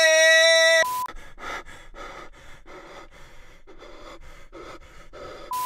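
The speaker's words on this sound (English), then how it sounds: "I'm gonna go find another heavy breathing clip." Heavy breathing, about a dozen rhythmic, raspy gasping breaths in quick succession, close and fairly loud, bracketed by a sustained electronic beep at the start and another at the end.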